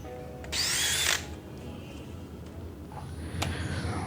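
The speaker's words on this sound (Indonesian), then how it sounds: "ini saya menggunakan mata bor 10 mm loh" A DeWalt DCD796 cordless drill fitted with a 10 mm bit gives one short, loud whirring burst, then drops back to quiet room noise with a faint click a little later.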